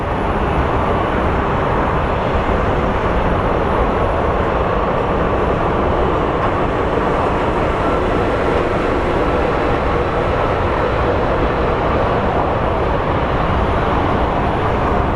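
An airliner on its takeoff roll at Phoenix Sky Harbor, bound for Burbank, gives a loud, steady, broadband roar that holds evenly for the whole stretch, with no talking.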